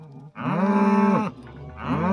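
A cow bellows twice at close range on a farm where bulls are being turned out with the herd: a long, loud, low moo, a brief pause, then a second moo beginning.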